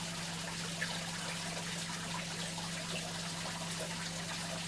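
A small aquarium pump moves water in a tank, producing a constant low hum beneath a soft, continuous trickle and bubbling, steady and close with no talking.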